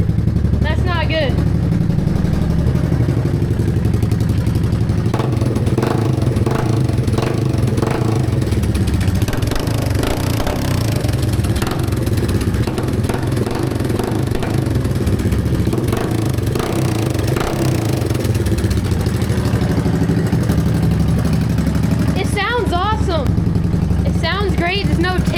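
Engine of a banned three-wheeler idling after sitting for eight years, with a split exhaust; a loud, steady, clattering low idle runs throughout as people talk over it.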